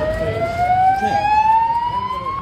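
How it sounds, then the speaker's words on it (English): A loud alarm in the Bellagio casino blares a steady, piercing electronic tone that holds and slowly rises in pitch, close and dominant over a murky background of room noise. "Some strange Bellagio alarm started sounding. It was annoying and loud as hell."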